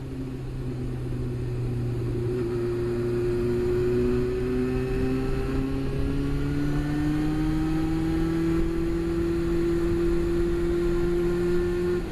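A 1988 Yamaha FZR400 EXUP motorcycle engine holds a steady, loud drone while riding, its pitch rising gradually as it pulls, with wind rush underneath and no talking.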